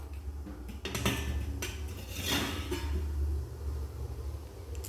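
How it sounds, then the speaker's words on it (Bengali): A lid is lifted off a cooking pot after steaming semai sujir pitha, producing a few sharp metallic clanks and scrapes followed by a soft hiss of escaping steam, close and quiet. "10 মিনিট হয়ে গেছে, ঢাকনা খুলে দেব।"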